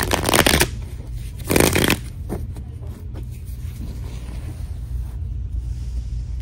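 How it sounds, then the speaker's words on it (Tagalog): A deck of playing cards is shuffled up close in a few quick riffling bursts, followed by softer handling noise over a low background rumble. "balasahin muna po natin bago po tayo mamili ng cards"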